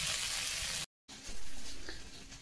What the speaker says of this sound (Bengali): এখানে একটু মাছের মাথা দিয়েছিলাম, আর একই জিনিস দিয়েছি রাঁধুনি, রসুন আর কাঁচা লঙ্কা দিয়ে এটা ভাজা করছি